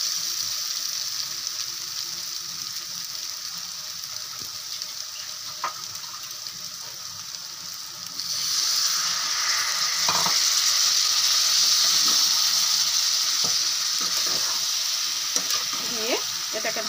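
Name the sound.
chicken and potatoes sizzling while being sautéed in a pan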